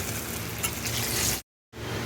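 Pieces of silver carp fry in hot oil, giving a loud, dense, crackling sizzle that runs continuously, cuts out abruptly for a moment, then resumes.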